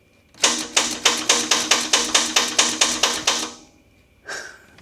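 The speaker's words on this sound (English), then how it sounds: "that sounds like a starter that's actually trying to start" A flooded Corvette's starter motor cranks in a fast, steady rhythm of about a dozen loud, even pulses, then cuts out, followed by a brief rougher burst.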